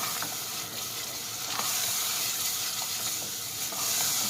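Barbecue meatball sauce mixture being stirred, a faint, steady wet swishing and scraping with a few soft taps from the utensil.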